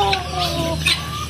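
Broiler chickens cluck close by on a native chicken farm, giving a few short, bright clucks and squawks over a faint low background murmur.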